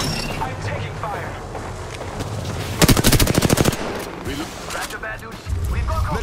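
Automatic gunfire in Apex Legends bursts out in a rapid, loud rattle lasting about a second, set against game sounds and voices.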